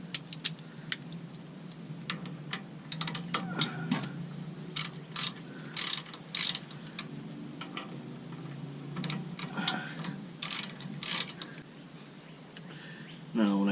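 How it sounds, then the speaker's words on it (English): A 1/4 inch Allen key turns to loosen bolts on an AirDog fuel pump. Close metallic ratchet-like clicks and short tool knocks come in irregular bursts, with faint background noise. "And I think it's a 1/4 inch Allen on here. Start pulling it."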